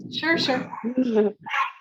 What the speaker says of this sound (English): it's a tiny little Yorkie that sounds like a Doberman